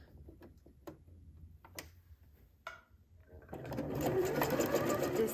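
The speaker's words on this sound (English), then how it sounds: "I went ahead and stitched again." Domestic sewing machine stitching swimsuit elastic, starting with a few quiet clicks and handling ticks before settling into a steady, close whirring run for the last couple of seconds.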